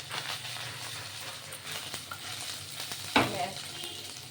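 Small mourala fish frying in oil in a wok as a steady, soft sizzle, with one sharper scrape or clatter partway through and no voices.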